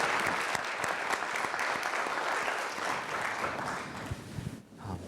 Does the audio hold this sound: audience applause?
yes